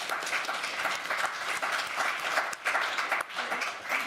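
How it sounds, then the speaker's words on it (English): A conference audience at a TUC pensions event claps for three panellists, a thick, even burst of applause from many hands, fairly close, continuing for several seconds without speech. "If we can give them a round of applause"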